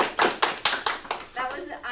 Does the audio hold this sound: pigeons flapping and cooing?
no